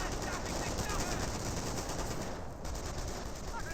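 Rapid machine-gun bursts and gunfire crackle continuously in a Company of Heroes 1 battle, dense and fairly loud, with brief commentary-like voice fragments underneath.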